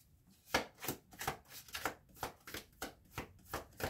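Tarot cards are shuffled and handled in a steady rhythmic series of close, crisp riffling slaps, about two per second, with no talk.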